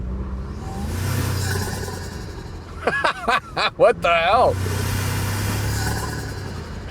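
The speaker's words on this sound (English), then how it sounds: "noisy turbo noise that I've ever heard in a car" A 2024 Toyota Tacoma Trailhunter with a high sand intake accelerates, a loud whooshing turbo and intake rush building over a steady engine drone, while someone talks and exclaims over it.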